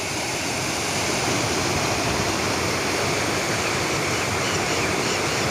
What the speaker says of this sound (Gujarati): આપણે આ છે માલેસરી નદી